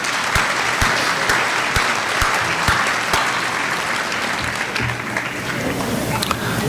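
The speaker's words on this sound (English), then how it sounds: "Let's give them a round of applause." Applause fills the hall at an annual meeting: a large audience claps loudly and continuously, with a few sharper individual claps standing out near the start before the sound tapers slightly.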